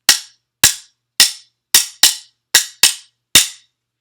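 Spatula and wooden spoon struck together as found kitchen percussion, eight sharp, dry clicks at irregular spacing, close and loud, each decaying quickly into silence.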